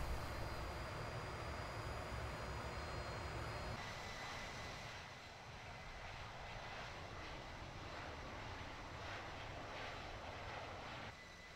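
Simulated aircraft engine roaring steadily during a takeoff roll from Ayers Rock runway 31 in the Infinite Flight game, a loud continuous drone that shifts in tone partway through and drops slightly near the end, with no talking.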